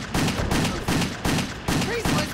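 Rapid bursts of video game gunfire, shooting at enemies in an action shooter, come in about five loud, evenly spaced volleys with a busy, dense texture filling the space between shots.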